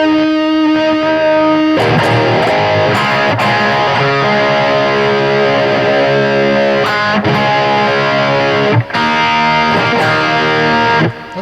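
A 1989 Ibanez RG760 electric guitar with Seymour Duncan pickups plays heavily distorted chords, loud and close, in several sustained strums broken by brief gaps and pick noise.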